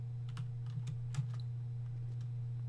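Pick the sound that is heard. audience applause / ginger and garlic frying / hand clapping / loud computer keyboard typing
loud computer keyboard typing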